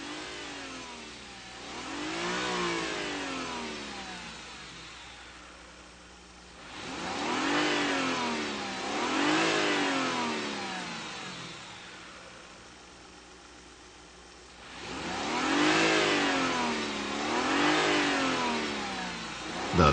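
A Mazda MX-3 engine with a variable resonance induction system revs repeatedly, rising and falling in three separate surges between quieter idling stretches, close and clear with no talk.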